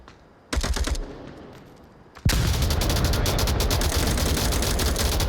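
Gunfire in a shooter video game match: a short rapid burst, a pause, then sustained automatic firing with fast, dense, loud shots continuing to the end.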